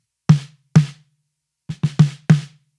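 Close snare drum strikes picked up by a dynamic top mic similar to a 57: two single hits, then a quick flurry of four, each with a short ringing tone, no voices.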